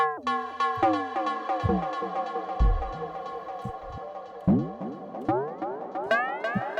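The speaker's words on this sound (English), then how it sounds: "with this pitch envelope we have this wobbling effect" A synthesizer plays repeated notes whose pitch swoops and bends, giving a wobbling, pulsing effect with swooping dips, moderately loud and continuous.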